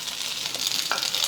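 Leftover-rice breakfast cakes fry in a little oil in a pan, giving a brief, soft, steady sizzle close by with no voices.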